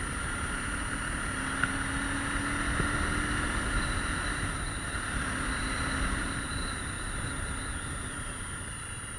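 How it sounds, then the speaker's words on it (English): An SWM 650 R motorcycle engine drones steadily while riding, a continuous hum with whining tones and rushing air, no voices. "I'm enjoying this, it's a nice motorcycle to ride really."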